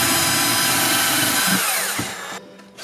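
WORX SwitchDriver cordless drill driving a screw into leftover wood, a steady loud motor whine that dips and stutters as the bit skips, then cuts off near the end.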